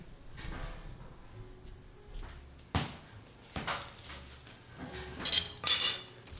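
Close, intermittent scraping and tapping of a spoon as it textures the top of a freshly poured coffee soap, with a few crisp clinks and a brighter flurry of scratches toward the end, no voices.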